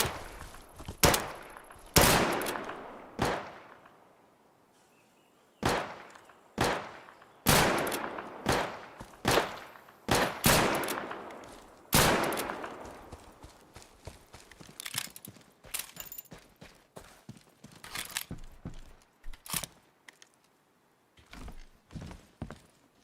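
Gunfire in the survival shooter Deadside: sharp, loud shots, some fired singly and some in quick bursts, each ringing out into a decaying echo, with gaps of silence and quieter distant shots later on.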